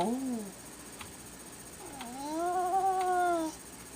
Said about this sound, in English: You've been extra meowy today.